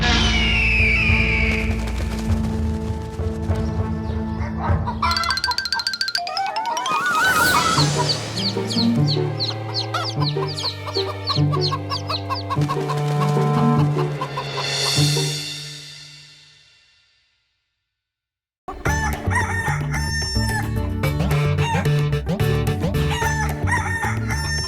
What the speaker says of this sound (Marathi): शेपुटवाली कोंबडी,